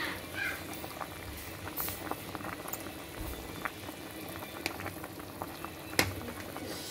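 A pot of nilagang pata, boiled pork leg, bubbling on the stove: a steady, fairly quiet simmer with scattered pops and splutters, close by and uninterrupted by talk.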